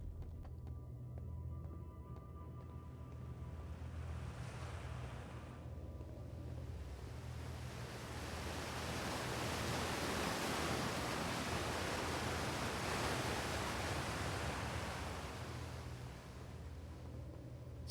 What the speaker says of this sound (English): We have water here that's going to take us down.